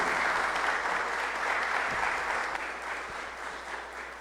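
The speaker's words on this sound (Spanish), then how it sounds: "Vamos a brindarle un fuerte aplauso" An audience applauds a speaker at a national journalism prize event in a conference session, steady dense clapping throughout, loud and close, gradually easing toward the end.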